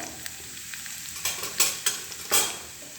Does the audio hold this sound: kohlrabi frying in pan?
yes